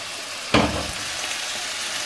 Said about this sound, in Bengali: আমি যে পেঁয়াজটাকে পেস্ট করে রেখেছিলাম সেই পুরো পেঁয়াজটাকে দিয়ে দিলাম ঢেলে।